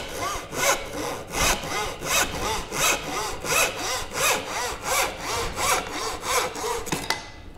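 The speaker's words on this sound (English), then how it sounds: "I'm gonna saw right between them" A hand saw cuts through timber in a steady rhythm of about a dozen rasping push-pull strokes. The strokes are close and loud, and the sawing stops near the end.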